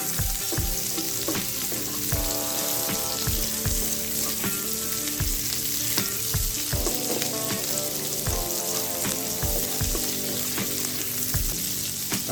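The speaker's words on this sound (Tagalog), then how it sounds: "So the same pan po, magigisa na tayo." Onions sautéing in a pan for tofu with mushroom and bean sprouts: a loud, continuous sizzle close up, punctuated by regular spatula knocks and scrapes as they are stirred.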